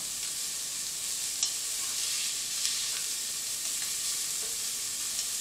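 Onions sweating in a pot for one-pot gluten-free hamburger macaroni give a steady, gentle sizzle, an even hiss from start to finish with a few faint pops and crackles, fairly close.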